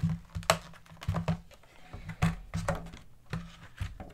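A Patriot Burst 240GB SSD is taken out of its plastic packaging, producing close, irregular clicks, taps and rustles in uneven bursts, with no talking.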